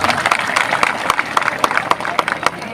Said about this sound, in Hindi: इनके लिए जोरदार तालियां बजा दें